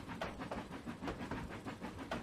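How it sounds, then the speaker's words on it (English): A steam locomotive in the Trainz 2019 video game puffs rhythmically on the C&O Hinton route, a quiet, regular chuffing beat with hissing, heading to the service yard and turntable. "So he's now steaming his way back"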